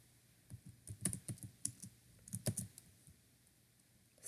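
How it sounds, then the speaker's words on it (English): Quiet clicking of keys on a computer keyboard, a short burst of irregular keystrokes followed by a pause and a few more taps, with no voices. "So go ahead and type that."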